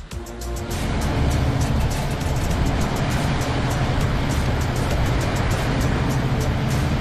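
A 4WD drives through a wet, sloppy desert track in the rain, a steady rushing wash of water spray and tire splashing under a low engine drone, loud and continuous.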